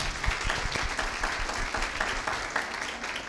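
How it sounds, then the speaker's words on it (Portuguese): A crowd claps steadily, a dense patter of many hands at moderate distance, with no talking over it. "Palmas, por favor."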